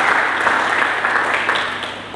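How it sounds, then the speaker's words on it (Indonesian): A Pentecostal church congregation gives loud applause for Jesus Christ during a Pentecost sermon, a continuous, full crowd clapping with a low steady hum beneath that fades slightly toward the end. "Mari berikan tepuk tangan yang meriah bagi Yesus Kristus."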